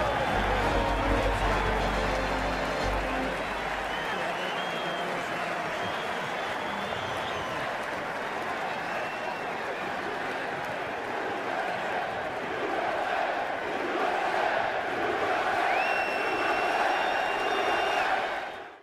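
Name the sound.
stadium crowd cheering and chanting USA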